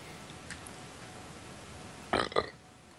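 A short, sharp sneeze bursts out near the end after a stretch of quiet room noise, with a second smaller burst right after it.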